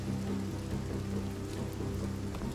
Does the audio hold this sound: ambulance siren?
no